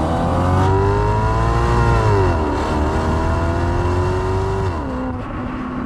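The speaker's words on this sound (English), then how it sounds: "This is, of course, a Maserati Quattroporte." A Maserati Quattroporte V8 revs loudly and close by, its pitch rising and falling through several steady swells over a rough, rumbling low end.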